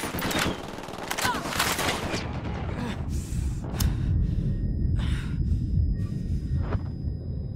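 Gunfire from a Ghost Recon Wildlands video game firefight: rapid bursts of shots at the start, then scattered single reports over a rumbling background, with game voices calling out.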